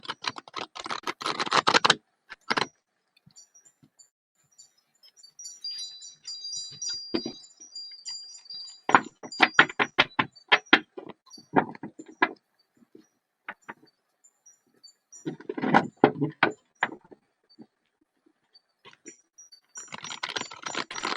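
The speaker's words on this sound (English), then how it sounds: "I'm going to check 1 second as soon as I'm done shuffling for Elena here." Tarot cards riffle and snap on a table in several quick bursts separated by pauses, with faint high electronic tones in the background and no talking.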